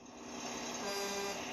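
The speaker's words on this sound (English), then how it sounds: "a horn button which sounds like this" A synthesized truck horn from the LEGO Technic Control+ Volvo articulated hauler 42114 app plays as a steady, loud tone held for about a second and a half, with no talking.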